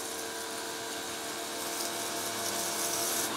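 A pressure washer runs steadily during a test, a loud continuous motor whine with a broad hissing spray that holds constant and swells slightly toward the end, with no voices.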